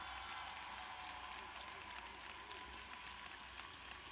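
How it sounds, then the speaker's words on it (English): Applause from a large crowd at a high school graduation ceremony, steady and fairly distant, a continuous wash of clapping without pauses. "a big round of applause"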